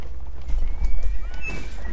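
Horse hooves pounding in a gallop in the Mount and Blade Warband video game, a rapid clip-clop rhythm with a brief whinny, moderately loud amid battle noise, no talking.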